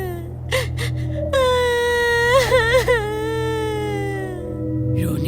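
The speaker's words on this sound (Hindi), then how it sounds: "रोने की आवाज।" A drawn-out, wavering wail of crying used as a sound effect in a Hindi horror podcast, sobbing pitch rising and trembling over a low droning bed with a few brief gasps at the start.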